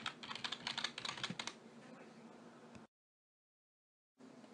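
Quick bursts of keystrokes on a computer keyboard as a password is typed at a Windows Server domain controller login, close and crisp, then a pause of silence and a faint hum returning.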